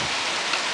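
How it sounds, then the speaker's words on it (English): Heavy rain falls outdoors on May 30th, a bright, even hiss of drops striking surfaces close by, unbroken and fairly loud with no talk. "Look at this rain."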